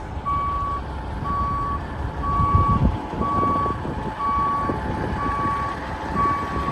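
Steady reversing beeps from a backing Kenworth truck, seven even tones in a regular rhythm over a loud, low diesel rumble, close by and with no one speaking.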